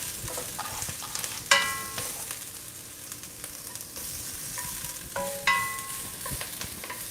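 Shallot, ginger and quinoa stir-frying in a hot pan: a continuous crackling sizzle with occasional sharper scrapes and clinks of stirring, close up and with no talking.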